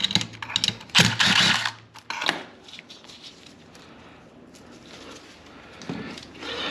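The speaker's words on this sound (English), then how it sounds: "Those are 1/4 inch hex screws. Take those off." Quarter-inch hex screws being backed out of a washing machine transmission during a clutch repair, giving close mechanical ratcheting and clicking bursts that are busiest early, then sparse handling clatter and a faint low hum.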